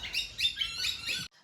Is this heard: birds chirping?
yes